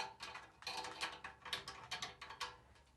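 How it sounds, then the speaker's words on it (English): Threaded base caps being unscrewed from the valves of a brass instrument, giving a run of close, rhythmic metallic ratcheting clicks and scrapes in quick bursts, with no voices. "we want to start with unscrewing the base of our valves here."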